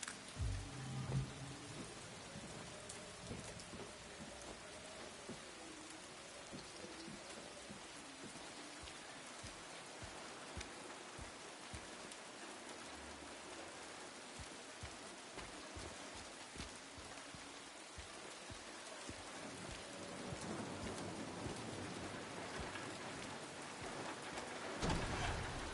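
Steady rain pours throughout a stormy scene in the Silent Hill 2 Remake, dense and continuous, with low thunder rumbling beneath it and swelling again near the end; no one speaks.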